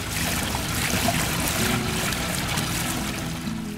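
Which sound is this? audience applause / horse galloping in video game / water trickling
water trickling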